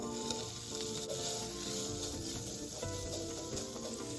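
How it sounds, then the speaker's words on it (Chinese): Pork frying in oil in a non-stick pan over low heat, a dense continuous hiss and crackle with faint stirring, steady and close, no voices. "加入预先备好猪肉煸香。"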